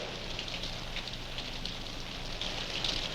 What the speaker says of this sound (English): Stinking rain.